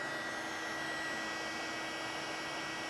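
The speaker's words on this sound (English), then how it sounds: "As you can see, there's the heat gun." A heat gun runs steadily at close range while making a DIY electrical connection, a continuous broadband blowing hiss with a faint motor hum, unbroken for the whole stretch and with no talking over it.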